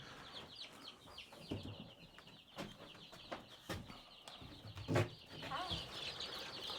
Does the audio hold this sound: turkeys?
yes